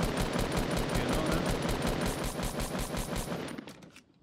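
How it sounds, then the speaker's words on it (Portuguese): Rapid gunfire in the Fortnite video game: a long automatic burst of evenly spaced shots at a fast steady rhythm, fairly loud, cutting off near the end into brief quiet. "Na dúvida, vou dar um tiro dali."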